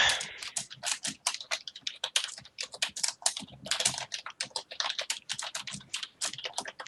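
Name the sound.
typing on a computer keyboard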